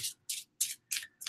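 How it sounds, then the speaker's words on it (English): A deck of tarot cards is shuffled by hand, five quick, crisp riffling bursts in an even rhythm with brief silences between, close and fairly soft. "This deck shuffles really well too."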